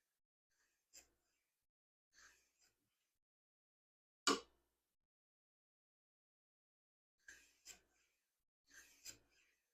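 A restored block plane cuts a chamfer, taking whisper-thin shavings in five short, separate rasping strokes with pauses between, the middle stroke loudest, close and alone with no talk.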